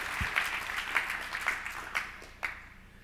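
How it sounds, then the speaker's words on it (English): Audience applause at a conference talk on using Node and Grunt to build a workflow, a short burst of clapping from a room of listeners, fairly close, fading out over about three seconds with no talk over it. "Don't applaud yet"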